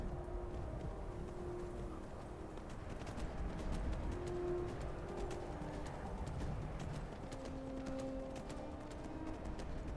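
A horse in Skyrim gallops with a steady rapid clip-clop of hooves, quiet and continuous over faint ambient background, with no talking.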